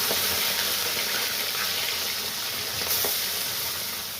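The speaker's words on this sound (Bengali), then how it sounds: "তেলটি গরম হয়ে গেছে, এবার আমি মাছগুলো দিয়ে দিচ্ছি। মাছগুলো আমি দিয়ে ভেজে নিচ্ছি।" Fish pieces fry in hot oil for pona mach, giving a loud, close, continuous crackling sizzle that fades slightly toward the end with no one speaking.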